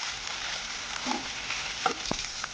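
Broad bean pods (val shenga) cooking in a pan for a gravy dish, giving a steady low sizzle with a few soft stirring clinks, close and fairly quiet with no talking.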